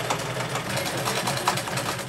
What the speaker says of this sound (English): She spends hours at her sewing machine.